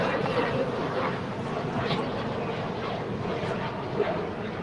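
A jet airliner takes off from runway 25 right at LAX, a steady, loud broadband roar that rushes on without a break for the whole stretch.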